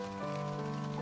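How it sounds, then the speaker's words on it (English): Light rain falls in the video game SeaBed, a continuous gentle patter and hiss mixed under held musical drones, quiet and even throughout. "Here comes the rain."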